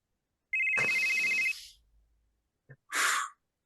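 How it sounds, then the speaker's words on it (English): Synthetic telephone ringtone on a call placed to a contact, a steady electronic tone held for about a second, then a brief click and a short breathy burst, close and clear with no talking. "It's like 3 or 4 rings, and then you just get a groggy hello."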